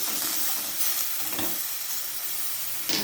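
Grated coconut roasting in a little oil in a pan on the stove, giving a steady, close frying hiss with faint stirring and no talk.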